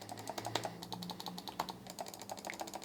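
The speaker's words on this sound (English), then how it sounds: "The buttons on the top, so you've got your left, right button" Left and right top buttons of a Marvo Scorpion PRO G945 programmable RGB gaming mouse click repeatedly in a brisk irregular run, sharp and fairly loud up close, with no talking over them.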